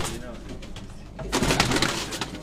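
An old Tokri wale pigeon breed from Sialkot coos in low murmurs, growing louder and busier in the second half, with people talking close by.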